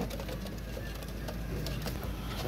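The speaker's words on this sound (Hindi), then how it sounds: "ये कबूतर है जी" Teddy pigeons coo softly in a cluttered, noisy loft, their low murmuring calls half-buried under constant background hiss and clatter.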